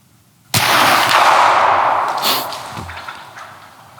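A single loud muzzleloader gunshot fired at a whitetail deer during a late-season hunt cracks suddenly from near silence, then booms and echoes away over a few seconds outdoors.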